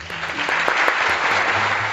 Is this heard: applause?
yes